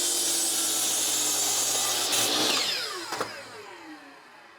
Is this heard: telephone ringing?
no